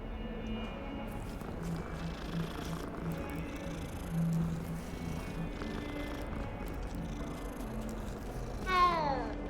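A cat purrs steadily in the video game Hogwarts Legacy, a low continuous rumble under game ambience, with a brief chirpy game sound near the end.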